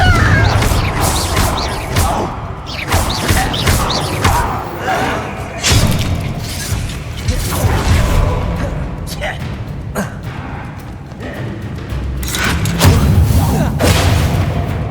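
Repeated Confringo fire-spell explosions in the video game Hogwarts Legacy, a string of heavy booms and thuds with crashing impacts across the whole stretch, loud and close, mixed with combat noise and grunts.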